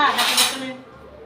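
Metal ladle scraping and clinking against a pot while stirring a sesame and grated coconut filling for kozhukattai, a short, close burst of clatter fading after a moment.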